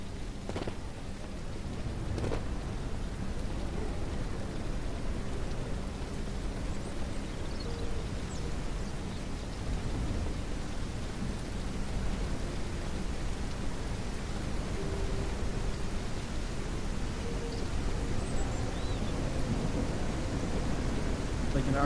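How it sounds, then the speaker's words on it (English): Steady heavy rain with storm noise from the Mist Survival video game, a dense continuous wash of rainfall with a few low thunder rumbles, filling the whole stretch with no clear speech on top. "Like it's like there's rain, but then there's a tornado coming too."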